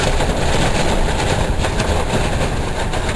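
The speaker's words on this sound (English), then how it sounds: "Please excuse the noise. It's the tarp on the west wall." Loud, constant rushing and rattling of a tarp on a shed's west wall flapping hard in strong wind, close by, with no voices.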